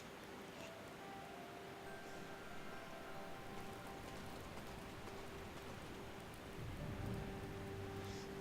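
Steady rain falls in the video game Dust: An Elysian Tail, a continuous even hiss of drops that holds at one level for the whole stretch, with no voices over it.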